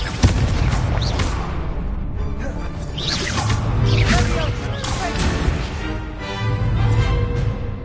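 Hogwarts Legacy duel on PS5: spells crackle and whoosh in rapid succession, with sparkling magical bursts, an explosive blast, and a loud game soundtrack underneath, while a player shouts spell names over the action.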